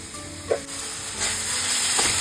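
Note shak greens frying in a pan, stirred after sugar is sprinkled in, giving a steady close sizzle with a couple of soft scraping knocks from the stirring.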